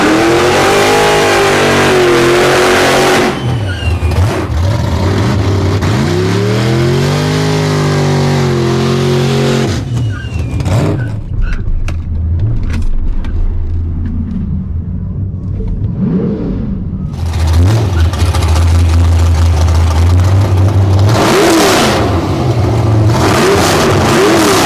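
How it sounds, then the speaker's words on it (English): Don's nitrous-fed Chevrolet Nova on big 31-inch drag slicks launches at a drag strip, a loud close engine roar climbing through gears, then a quieter stretch before another car's engine rises and revs hard. "All right, we're gonna run the Nova, Don's Nitrous Nova, on the big 31-inch slic"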